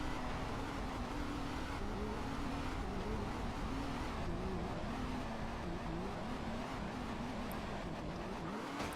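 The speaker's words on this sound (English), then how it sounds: "Drive down the train tracks again to the gas station." A car engine in the video game GTA San Andreas, droning steadily and loud throughout as the vehicle drives on, pitch wavering slightly with speed, no talking over it.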